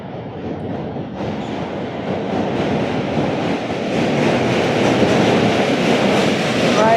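A train rolls over a bridge along the Brooklyn waterfront, a loud, continuous rumbling roar that builds steadily and stays close, with a brief metallic squeal near the end.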